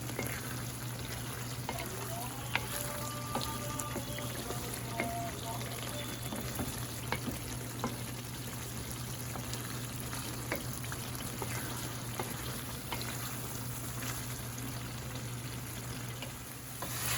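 Lahori karahi cooking in a pan, a steady low sizzle of oil with scattered scraping and stirring clicks running continuously, fairly faint, with no talk over it.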